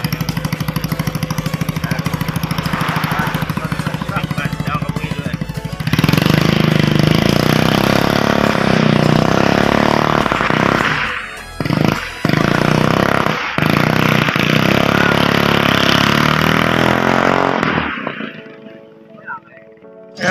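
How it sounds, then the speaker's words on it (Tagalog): A boat engine runs loud and continuous, a rough steady drone that surges once, then cuts off near the end, with talking over it. "Maganda yung tunog ng bangka."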